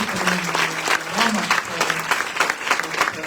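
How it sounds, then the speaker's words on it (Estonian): Audience applause for Christopher at an Estonian book launch, a steady wash of clapping from a crowd with a voice speaking over it throughout. "Ja teeme Christopherile aplausi."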